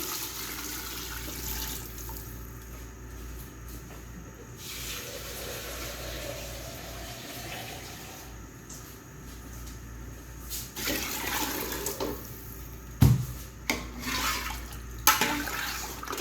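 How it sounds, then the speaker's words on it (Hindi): Water runs steadily into a cooking pot of mutton trotters with a rushing, splashy hiss, and a few sharp clanks are heard toward the end. "अब इसमें क्या करेंगे, मैं पानी शामिल करूँगी।"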